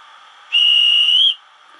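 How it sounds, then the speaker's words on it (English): A conductor's whistle sound from a Märklin blue BR 01 model steam locomotive gives one steady, shrill, close whistle lasting under a second over a faint background hiss. "conductor's whistle."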